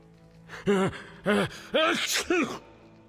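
A video game character's sneezes in The Witcher: a series of four short, voiced bursts with rising-falling pitch, each loud and separated by brief pauses.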